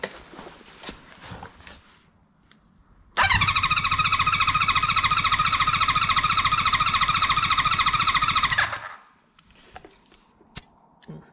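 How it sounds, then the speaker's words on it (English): A Honda 400-4 Supersport motorcycle engine cranks over with the throttle wide open during a compression test, a loud rhythmic starter churn lasting about five seconds between quieter clicks and handling noises. "hold the throttle wide open, crank it over, see what number she makes"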